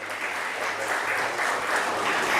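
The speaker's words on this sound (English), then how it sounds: "Let's hear a huge round of applause for him." Audience at a biotech skilling seminar giving a round of applause, dense continuous clapping from many hands, fairly loud and even, swelling slightly toward the end.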